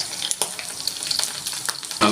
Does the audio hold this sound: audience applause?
no